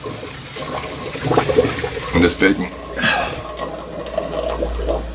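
Water rushes and gurgles through the emergency overflow pipe and filter of an aquarium, a loud uneven splashing that continues under a man's brief speech.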